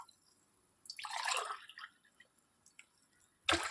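Water is poured from a glass into tamarind juice for sambar in two close splashing bursts, the first longer and trickling, the second short and sharp, with quiet pauses between.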